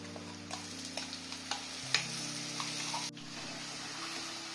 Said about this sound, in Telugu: చూడండి ఈ ఆనియన్ పేస్ట్ అంతా వేగిపోతుందండి